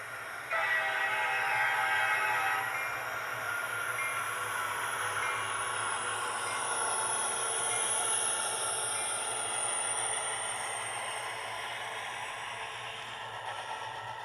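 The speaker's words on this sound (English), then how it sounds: "So that is the Rapido 53-foot Gunderson Huskey stack well car." A Rapido Gunderson 53-foot Husky Stack well car model train runs along the track with a steady, faint whirring hum and soft rolling clatter. The sound stays even and continuous, with no speech.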